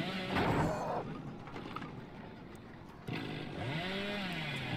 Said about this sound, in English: I just need to do a chainsaw